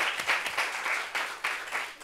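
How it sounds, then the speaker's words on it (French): Studio audience applause for a mother on a French TV talk show, a short, steady burst of many hands clapping at moderate level. "On peut applaudir maman, s'il vous plaît"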